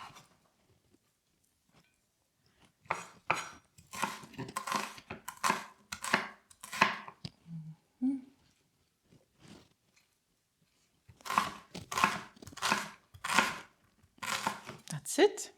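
A knife cubing a white onion on a cutting board, with bursts of quick, rhythmic chopping taps separated by pauses, close and moderately loud, with no talking.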